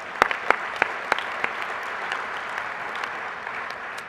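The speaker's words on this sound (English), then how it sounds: "Take an extra round of applause for that." An audience at a Kuali Days 2012 conference general session applauds, with a few sharp, distinct claps standing out at first over a steady, moderate patter of clapping from the room.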